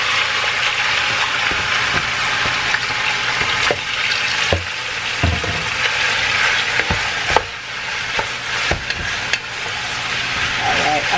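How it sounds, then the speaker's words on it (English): Meat frying in a pot of oil, a continuous loud sizzle and crackle with occasional stirring knocks and scrapes, close up throughout. "and I'm going to fry it up"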